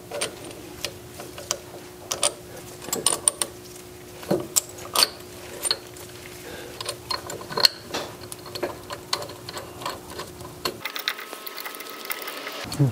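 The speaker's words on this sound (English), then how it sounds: "let's go ahead and just install all of our bolts." Bolts are threaded by hand into the CV joints of a Porsche 3.2 Carrera, making irregular close metallic clicks, ticks and small rattles with short pauses between them.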